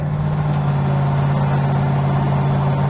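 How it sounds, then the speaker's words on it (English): Twin-turbocharged LS-swapped Chevy Nova wagon cruising at speed on new tires, a steady engine drone carrying a constant high turbo whine, loud and close throughout, with no talking. "you can sure hear those little turbos just a singing"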